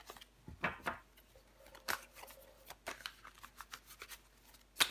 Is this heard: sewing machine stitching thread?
no